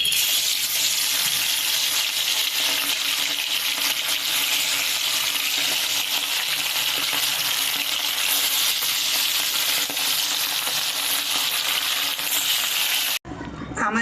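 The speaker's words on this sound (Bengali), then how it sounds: "এইবার এইটাতে আমরা এই যে ম্যারিনেট করা ইলিশ মাছগুলো হলুদ আর নুন দিয়ে এটা একটা একটা করে দিয়ে ভেজে নেব।" Turmeric-and-salt marinated hilsa fish frying in hot oil in a kadai, a steady dense sizzle running loud and close almost throughout, cutting off abruptly near the end.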